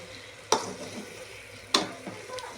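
Spice powders being stirred together in a frying pan, with two sharp scraping strokes about a second apart, close and fairly loud over a low background hiss.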